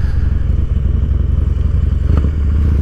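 Harley-Davidson motorcycle engine idling high and slightly lean, loud and close with a steady, rapid pulsing thump and a brief clatter near the end.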